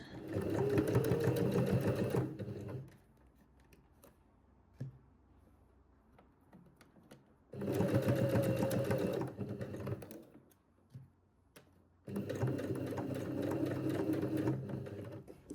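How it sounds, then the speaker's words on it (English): Husqvarna Viking Emerald 118 sewing machine stitching in a studio, three loud bursts of rapid mechanical needle whirring separated by quiet pauses with faint handling clicks. "So I'm actually sewing today on the Husqvarna Viking Emerald 118, which are my teaching machines in the studio"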